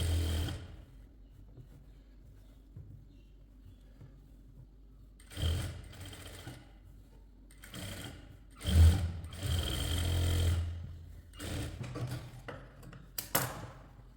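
Sewing machine stitching the neck lining of a short kurti, its motor running in several short whirring bursts separated by pauses, close and fairly loud with no talk.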